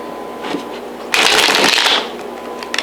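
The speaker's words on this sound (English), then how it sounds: "that one's not going to count as a good shuffle" A deck of tarot cards is riffled in a quick, crisp burst lasting under a second, close up, with softer handling sounds before and after.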